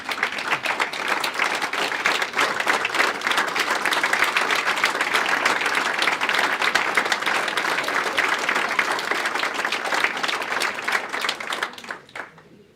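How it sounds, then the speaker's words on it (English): A standing crowd at the North West Regional Volunteer Awards 2024 gives a big round of applause, loud, sustained clapping that stays even for most of its length before fading out at the end. "please give a very big round of applause to the individuals listed"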